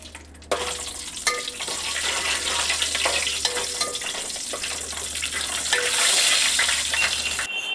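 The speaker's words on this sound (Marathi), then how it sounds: "लवंग आणि वेलची टाकून व्यवस्थित परतून घेतलं." Whole cloves and cardamom pods sizzle and crackle in hot oil with cumin, bay leaf and asafoetida in a home kitchen, a steady close frying hiss with occasional pops and stirring scrapes, no talking.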